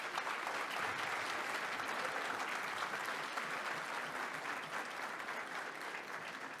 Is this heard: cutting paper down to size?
no